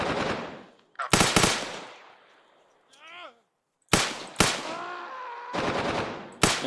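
Bursts of gunfire in ArmA Reforger: sharp, loud automatic volleys and single shots in uneven clusters, with a gap of quieter ambience and a rising chirp-like sweep between them, and voices faintly present at times.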